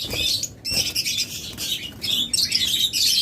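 A pair of orange-head pet birds chirp almost nonstop up close, a dense, bright twittering with brief pauses and a flutter of wings in between.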